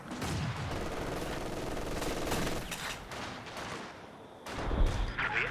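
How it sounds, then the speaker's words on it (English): Mortar and Werfer rocket artillery strikes in a Company of Heroes 2 3v3 match, a dense, continuous barrage of blasts and gunfire rumbling throughout, with a heavier impact bursting near the end. "Got a mortar coming down here as well."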